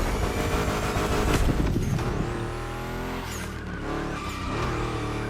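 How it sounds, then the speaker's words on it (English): Ford Mustang in The Crew Motorfest racing game, engine droning steadily with a loud tire skid and squeal, close and continuous with no talk. "it is a Mustang and it does Mustang things. And it makes Mustang noises."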